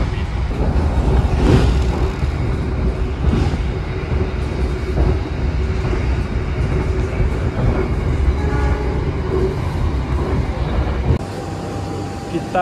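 An Argo Cheribon economy train with stainless-steel carriages rolls steadily along the rails near Haurgelis station in Indramayu, a constant loud rumble heard from inside, with faint clicks and a brief horn-like tone toward the end.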